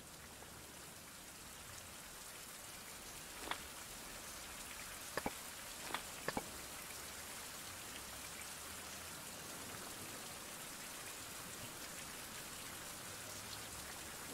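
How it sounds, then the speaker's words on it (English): Rain falling in the survival video game Survival: Fountain of Youth, a faint, steady hiss of drops on surfaces with a few brief ticks and taps, no voices. "Oh, it's raining."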